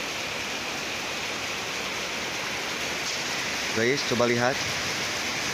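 Heavy rain pours steadily in a misty area during a thunderstorm, a loud continuous wash of water close by, with someone speaking briefly over it near the end.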